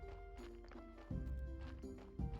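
Donkey hooves clip-clopping in Graveyard Keeper as the animal delivers a corpse, a light steady plodding over game music, with no talk.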